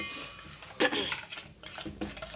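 A spoon stirs rasam spice powder into a gojju avalakki mixture in a metal vessel, giving close scraping strokes and a few light clinks against the sides, with no voices.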